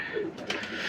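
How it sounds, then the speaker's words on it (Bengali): Soft cooing of a desi pigeon kept in a home loft, a few low throaty coos close by and fairly quiet, with faint background hiss. "দেশি পায়রা"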